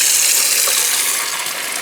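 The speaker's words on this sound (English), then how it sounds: "We're going to fill this with water" Tap water gushing into a small saucepan in a kitchen sink, a loud, steady rushing stream without pause.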